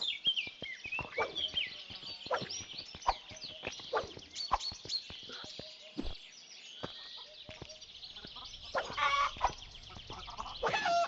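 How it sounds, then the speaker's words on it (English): Chickens cluck and squawk in a video game, a flock making repeated sharp calls with frequent clattering impact sounds throughout, fairly close and busy. "Can I kill the chickens?"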